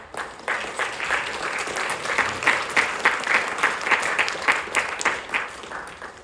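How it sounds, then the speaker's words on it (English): Guests at a celebration of life gathering clap together in a steady, fairly close round of applause lasting several seconds, with no talk over it. "give yourselves a round of applause for being here"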